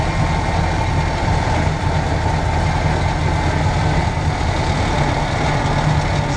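A farm tractor's engine runs steadily near a cornfield, giving a continuous deep, even rumble close by with no voices over it.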